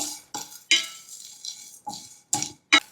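Whole coriander, star anise, cumin, peppercorns, cloves and cinnamon are dry-roasted in a pan and stirred, giving a series of separate scraping, rattling strokes with short quiet gaps between them, close and fairly clear, with no talk.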